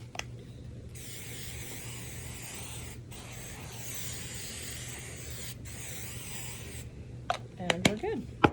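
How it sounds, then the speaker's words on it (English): Hairspray hisses onto a styled synthetic theatrical wig in three continuous bursts separated by short breaks, close and steady, followed by a few clicks and handling noises. "I'm also going to spray it with some of this hairspray."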